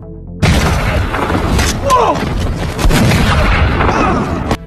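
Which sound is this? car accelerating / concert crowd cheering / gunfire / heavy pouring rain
gunfire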